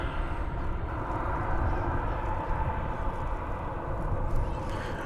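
An American Airlines jet rolls for takeoff on runway 18 left at DFW Airport, a steady broad engine roar heard from a distance, even and unbroken throughout.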